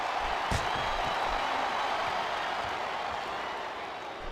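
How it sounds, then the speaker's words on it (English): A large indoor wrestling-arena crowd in a video game roars and cheers in a continuous wash of noise, with a few sharp thumps near the start. "Sounds like this crowd's got something on their minds, King."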